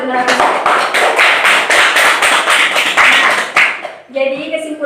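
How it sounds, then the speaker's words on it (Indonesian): Classroom clapping for a student, a dense burst of hand claps lasting about four seconds before it stops and a voice begins speaking. "Tepuk tangan untuk Nurhafizah"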